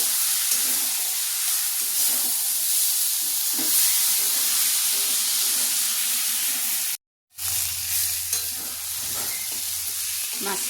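Kachki fish frying with spices in a pan, a steady hiss and sizzle throughout that briefly cuts out, then resumes with a low rumbling bubble after water goes in and steam rises.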